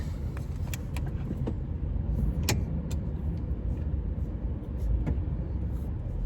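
A semi truck idles and rolls out of a TA truck stop on the east side of Amarillo, with a steady low engine rumble, a few light clicks and rattles from the cab, and no talking.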